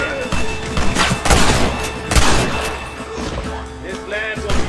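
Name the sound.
gunfire during gate assault, Red Dead Redemption video game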